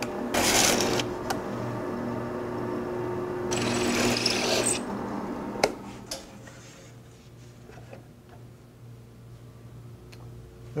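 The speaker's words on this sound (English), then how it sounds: "Now it's just a case of switching on and drilling." A power drill fitted with a self-centering bit bores shelf pin holes in a cabinet side, a steady motor whir running throughout with short louder bursts and clicks as it cuts, close and moderately loud.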